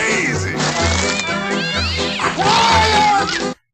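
An animated cartoon cat meows in a trailer for The Aristocats, its voice rising over a busy music score and sound effects throughout.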